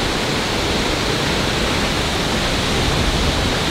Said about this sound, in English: we've made our first stop at the Diumara waterfalls, a 628-foot waterfall